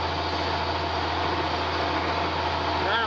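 A steady International Harvester tractor engine idles with no load, a constant low hum droning evenly and fairly close throughout.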